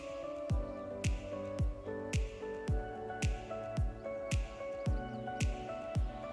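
Melted chocolate is mixed into a chocolate cake batter with milk, making soft, wet squelching strokes repeated in a steady rhythm about twice a second, close by and quiet, with no talking.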